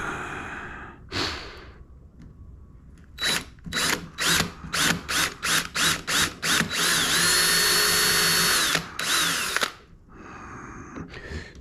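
A power drill drives screws into a plywood workbench. Short bursts of whirring come in a quick series, then a longer continuous run, with pauses and faint breathing between them.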